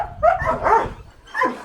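Dogs in the training kennels of a dog academy in Limuru, Kenya bark and yip in quick bursts, with a whimpering, whining tone between the barks, fairly close.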